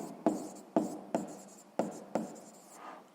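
Chalk writing out a fraction on a classroom board in a sixth-grade math lesson: five crisp tapping strokes with scratchy tails in an uneven rhythm, close and clear, followed by a fainter scrape and no speech.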